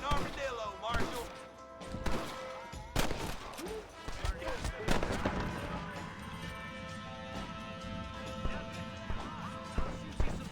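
Gunfire in Red Dead Redemption: sharp shots crack out in scattered bursts during a tense Western shootout, mixed with crashes and in-game voices over a busy background.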